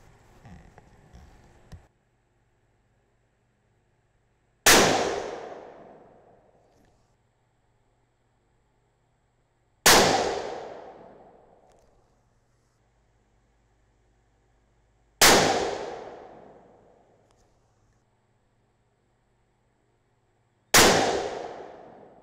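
Four single .22-250 Remington rifle shots ring out about five seconds apart, each a sharp loud crack with a decaying tail, separated by near silence after faint handling at the start.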